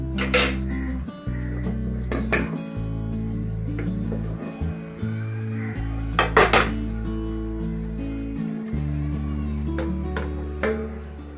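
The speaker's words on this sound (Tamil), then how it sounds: "ஒரு சைடு வெந்ததுக்கப்புறமா இந்த மாதிரி ஒரு பிளேட்டில் திருப்பிட்டு நான் திருப்பிக்கிறேன்" A cooked egg sheet is turned out onto a plate, bringing repeated clinks and clatters of utensils and dishware in irregular bursts over a low continuous hum.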